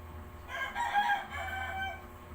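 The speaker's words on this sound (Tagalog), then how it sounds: "Ay, kasaba kong manok." A rooster crows loudly and close by in Cebu, one long drawn-out call that rises, holds, then trails off over a low steady background hum.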